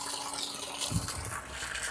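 Water gushing from a borewell motor-pump tap at a house near Papanasam in Tenkasi district, a loud continuous rushing splash with no speech.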